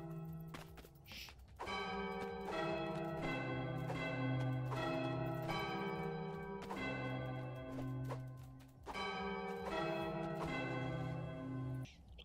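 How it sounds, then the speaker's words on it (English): Church bell tolling in the Goat Simulator 3 video game, struck repeatedly with long ringing overtones that overlap in a steady, loud peal lasting several seconds, with no talk over it. "Ooh, a bell. I want to touch the bell."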